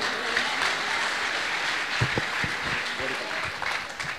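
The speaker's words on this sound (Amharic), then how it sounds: "እልልታችሁ ጭብጨባችሁ ከፍ ይበልስ ለዚህ ጌታ" A church congregation claps and cheers in loud, sustained applause during a prophetic service, a dense wash of hands with sharp individual claps standing out, and voices mixed in throughout.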